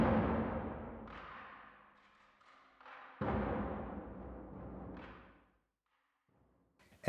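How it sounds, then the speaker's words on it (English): Hans Zimmer Percussion Professional Percussion 2 BAM patch, heavy cinematic drum ensemble striking in a few big booming hits with sharp cracks and long reverberant decays, loud and alone, ending in near silence. "And Percussion 2 BAM sounds like this"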